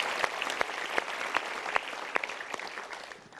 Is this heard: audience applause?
yes